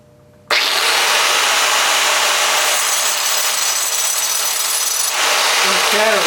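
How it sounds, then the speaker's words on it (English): A cut-off wheel grinds through steel on a vise repair with a loud continuous abrasive screech that starts abruptly after a brief quiet moment and holds steady close up, without clear chatter. "if your cut wheel starts chattering, that means you're putting too much pressure on it"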